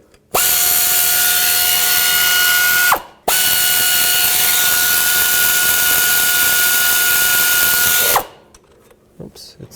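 A power ratchet or drill runs steadily, driving the bolts of a puller tool into the harmonic balancer on a 1999–2003 Toyota Solara, two long loud whirring runs separated by a short pause, then quiet tool handling.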